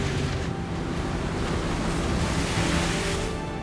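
Heavy waves and a strong, gusting wind batter a fishing boat at sea in winter, a broad, continuous roar of surf and wind buffeting the microphone, loud and steady without any voices.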